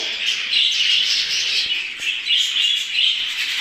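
Red-eyed pet birds chirp steadily in a breeding cage, a dense, continuous twittering close by with small rising and falling swells, no talking over it.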